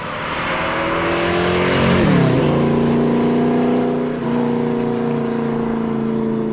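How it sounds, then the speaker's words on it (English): A 1965 Ford Mustang convertible with a Boss 363 cubic-inch crate engine and 5-speed revs hard and accelerates, a loud rising engine roar that peaks, dips at a shift, then holds a strong steady drone, close and alone. "that is what a Boss 363 crate motor can do"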